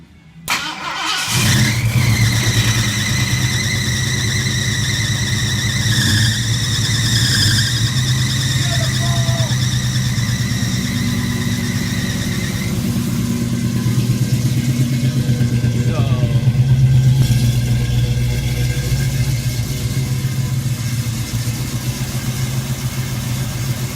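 A loud 351 V8 engine in a 1969 Ford Mustang roars and revs over a deep rumbling idle, the pitch rising and falling with each throttle blip.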